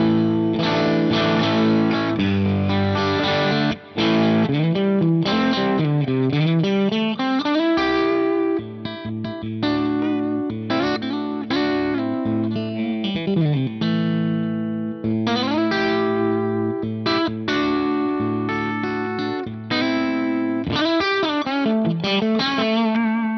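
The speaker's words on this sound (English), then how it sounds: "Let's hear the bridge and middle pickup on this Strat to start." Overdriven Strat electric guitar on the bridge and middle pickup, played through an Axe-Fx III drive model with gold plate reverb, chugging distorted riffs and sustained chords that ring continuously and loudly.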